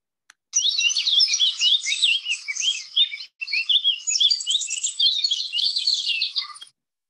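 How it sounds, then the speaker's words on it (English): A black-faced tanager in Costa Rica sings a long, rapid run of high twittering chirps with one short pause, close and clear against a silent background. "And this is the black-faced tanager."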